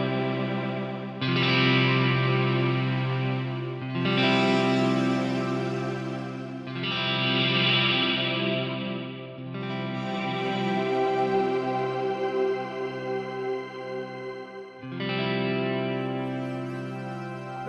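Electric guitar played through a Strymon Cloudburst reverb pedal: sustained chords bloom into a wide, washy ambient tail, with several struck chords in sequence each swelling and ringing out alone, fairly loud and close.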